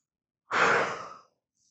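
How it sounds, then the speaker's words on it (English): A single deep, slow exhalation in a breathing exercise for calming stress, a breathy sigh about three-quarters of a second long, fairly close and alone against silence. "when the magma gets really hot and the volcano explodes, you will take a deep breath out"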